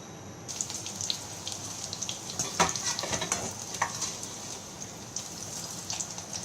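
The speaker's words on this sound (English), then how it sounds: "Let me fry some more and then we can go to the assembling of the chaat." Chaat snacks frying in hot oil for a Maharashtrian evening snack, giving a steady, close sizzle with crackling bursts and bubbling pops throughout.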